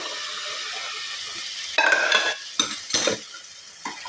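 Half a litre of milk is stirred in a metal pan for Satyanarayan puja prasad: a quiet simmer at first, then several distinct scraping strokes of a spoon against the pan.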